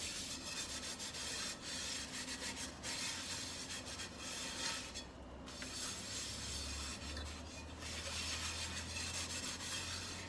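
Steady scrubbing and rubbing of dishes and pans, including a nonstick pan, being washed at home, a continuous close rasping scour that runs throughout without speech.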